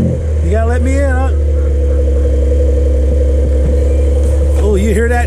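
A 2021 Porsche 911 engine runs close and loud throughout, with a steady low rumble and rising revs near the start and again at the end, while voices talk over it.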